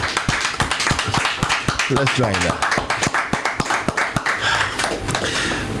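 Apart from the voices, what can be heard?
audience clapping hands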